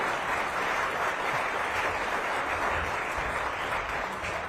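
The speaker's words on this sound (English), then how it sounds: "Round of applause for the man who led the company that was able to finally get Deep Thought, the abandoned boat stuck on Lake Michigan" Dense, steady applause from a Rotary club audience for a guest speaker whose company removed the abandoned boat Deep Thought stuck on Lake Michigan, loud and continuous with no talking.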